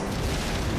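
A gas pump explodes in the racing game FlatOut 2, a loud, dense, roaring blast that fills the entire short moment without a break.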